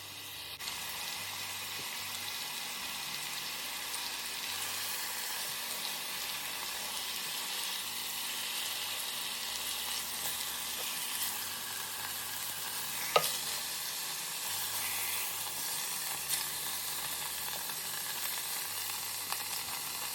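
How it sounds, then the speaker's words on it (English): Pork tenderloin pieces sautéing in a pressure cooker: a constant close sizzle of hot oil that runs unbroken for the whole stretch, with a single sharp tap partway through. "we're just going to saute these for about 2 minutes on each side"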